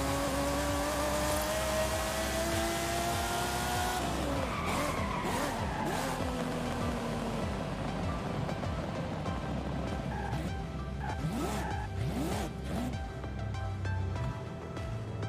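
A Ferrari 512 TR in Forza Horizon 5 roars at high revs, then brakes hard into a long, loud tire skid and squeal as the engine note drops and surges through repeated gear changes.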